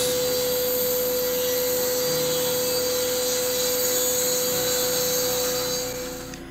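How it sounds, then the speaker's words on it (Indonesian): A circular saw runs through a plywood board with a steady, loud whine and a constant high tone, holding level through the cut and trailing off at the end, with no talking. "Saya akan memotong menggunakan mesin circular saw seperti ini."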